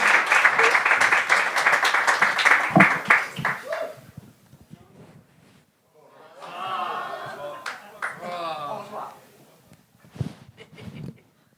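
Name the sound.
audience applause for a performer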